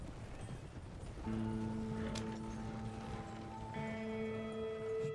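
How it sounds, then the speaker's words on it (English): Horse hooves clip-clopping in the video game Red Dead Redemption 2, a quiet steady plodding gait under soft in-game music tones and ambience, with no talking. "Horse is just gonna follow me slowly."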